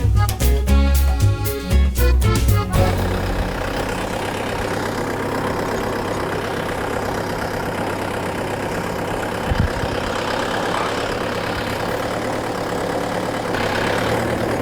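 A tractor engine idles with a steady low rumble, preceded by a few seconds of rhythmic louder chugging before it settles into an even drone.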